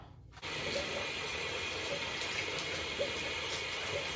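Shower water spraying onto and soaking a towel: a steady, fairly faint gushing hiss begins abruptly after a short pause and continues without talk.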